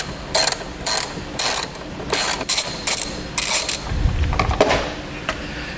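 Ratchet on a long extension with a 10mm socket backing out a bolt on a 2016 Chevrolet Colorado: close, loud bursts of rapid clicking in short groups with brief pauses, no voice.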